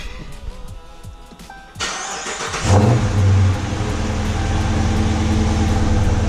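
A car engine cranks with a short whir, catches and fires up loudly, then revs briefly before settling into a steady close idle, with no talk.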